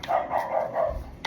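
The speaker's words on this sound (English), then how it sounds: "My dog out there doing the most." A dog barks outdoors in a quick run of four close, mid-loud woofs with little pause between them, with no voices alongside.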